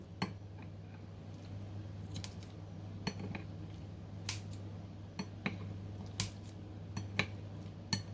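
Kitchen scissors snip through cooked Filipino lechon baboy (roast pork), producing a series of sharp, close crunchy cuts at an irregular rhythm over a low steady hum.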